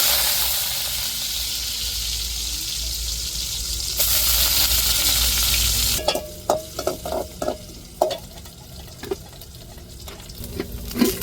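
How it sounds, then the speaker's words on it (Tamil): Mustard seeds and onion frying in oil for a South Indian tempering, a steady sizzle that gives way to clinking stirring and scattered pops, with running water from a sink joining in partway. "இப்போ கடுகு சேர்த்துக்கிடுவோம் தாளிப்புக்கு இப்போ வெங்காயம் சேர்த்து"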